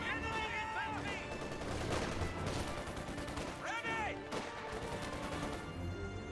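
Company of Heroes 2 battle gunfire, rapid bursts of automatic fire and scattered shots crackling throughout amid battlefield din, with whistling and rising tones and brief game voice lines, fairly quiet overall.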